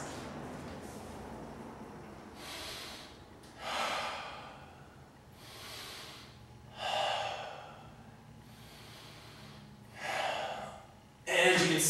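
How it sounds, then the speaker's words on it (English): Three slow, deep breaths taken during an exercise session, each a long airy inhale and exhale rising and fading, close and clear, with a quieter breath at the end and no talk. "we're just going to go for 3 deep breaths"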